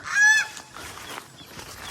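A turkey on a rural farm near a cassava patch lets out one loud, near honking call at the start, followed by quieter rustling and faint background noise.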